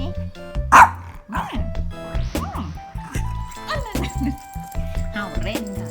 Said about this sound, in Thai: เห่าชวนเล่นอีกแล้วอ่ะเนาะ